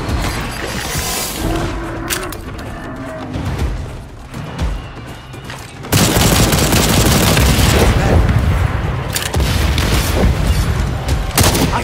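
Gunfire against dinosaurs in Second Extinction, a dense, loud barrage of shots and booms that grows heavier and sustained in the second half over game noise.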